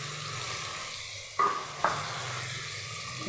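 Dheki shak (fiddlehead fern greens) fries with turmeric potatoes in oil, giving a steady close sizzle broken by two sharp metallic clinks of a utensil against the pan.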